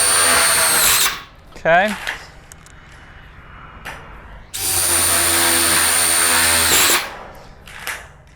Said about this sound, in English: these impact drills make it super nice and easy